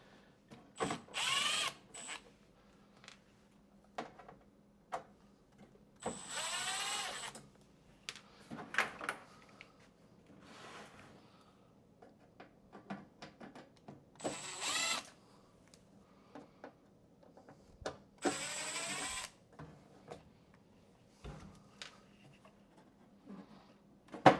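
Screws being removed from a Sony CD player, with bursts of whirring from a small power driver and light ratcheting clicks at close range, separated by quiet handling noise and no talk.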